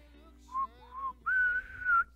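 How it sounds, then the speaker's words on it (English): A person whistles a short, wavering melody of a few notes up close, with two brief rising tones followed by a longer sustained note, alone without speech. "my whistling is not that great"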